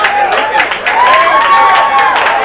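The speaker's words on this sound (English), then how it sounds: "give him a round of applause here" A live audience applauds and cheers at a rock band's show: a dense, steady wash of clapping with crowd noise, and a sustained voice or tone rising over it.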